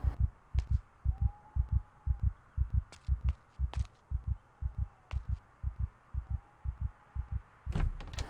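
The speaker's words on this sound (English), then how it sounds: "woke up to his heart beating fast" A fast, steady heartbeat from the game Project Zomboid thumps in paired beats, loud and close, over a low ambient hum, with a few brief sharper clicks scattered throughout.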